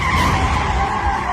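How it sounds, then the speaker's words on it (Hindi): A car stuck in place revs hard with its wheels spinning and squealing like a race car, a loud, steady skidding roar with no pauses. "किसी रेसिंग कार की तरह आवाजें करती रही, लेकिन 1 इंच भी आगे न बढ़ पाई"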